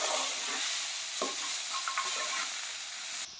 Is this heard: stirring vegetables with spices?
yes